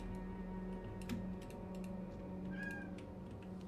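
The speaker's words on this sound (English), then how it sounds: "Can you guys hear Poncho meowing like that? She's quite loud right now." A cat meows indoors, faint and somewhat distant, with a soft rising call or two among light keyboard-like clicking taps.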